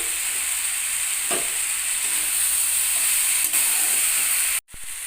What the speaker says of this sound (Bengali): সবজিগুলো ভাজা হতে হতে ভেজে রাখা বড়িগুলোও দিয়ে দিলাম একেবারে